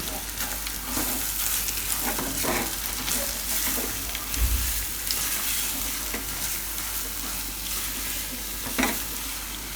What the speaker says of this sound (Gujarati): અને આમાં આપણે આ મગ રાખી દઉં પીસેલા બધા. અને ફેરવી લેવું.